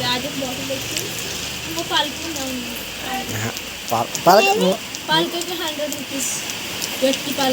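Rain patters steadily in the background while people talk close by, their voices rising over the constant soft hiss.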